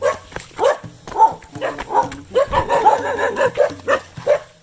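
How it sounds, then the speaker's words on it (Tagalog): A dog barks repeatedly in short, sharp bursts, fairly close and loud, with a steady irregular rhythm of about a dozen barks and some whimpering yips between them. "May ido tsaka aso."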